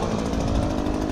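A gas-powered leaf blower runs at a lawn-mowing job, a loud, steady close-up engine roar with no talk.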